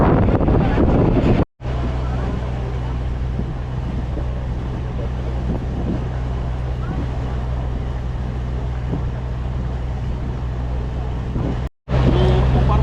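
Steady, loud engine drone and wind rush on a passenger launch ferry crossing from Benuban to Namkhana, a continuous low hum filling the whole stretch with two brief dropouts and no clear talk.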